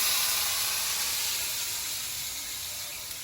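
Water poured into a pan of spiced vegetables frying for a cauliflower and egg curry sets off a loud, steady hiss and sizzle that fades slightly over a few seconds.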